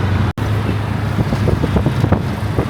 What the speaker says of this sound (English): the traffic is absolutely mental